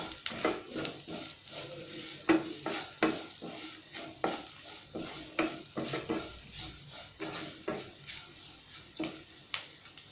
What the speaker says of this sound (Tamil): இந்த பவுடரும் எண்ணெயில் கொஞ்சம் நேரம் நல்லா வதங்கட்டும்.